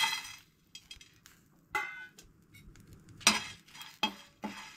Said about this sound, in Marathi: हांगसर ना आतां खडे मसाले आमी भाजून घेवया